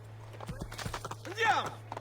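A horse in Assassin's Creed II gallops with quick, fairly quiet clip-clop hoofbeats and gives a short whinny partway through. A faint voice speaks in the background.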